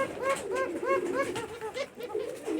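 A Giribaz pigeon from Rajshahi coos up close in a rapid run of rolling, throaty notes, each lasting about a third of a second, repeating continuously and clearly.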